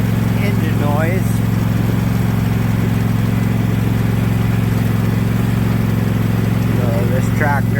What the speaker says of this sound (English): I don't want you to hear all this engine noise